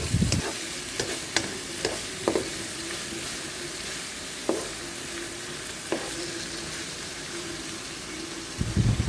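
Food stir-fried in a pan as its water cooks off, a steady broad sizzle with periodic scraping clicks and knocks of a spatula turning it, close and alone with no voices.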